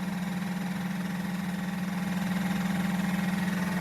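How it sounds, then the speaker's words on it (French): An Oral-B Oral Health Center Hydropulzer water flosser sprays water, a steady motor hum with a rapid pulsing buzz that stays even and close, with no talking. "Celui-ci propulse de l'eau très fort."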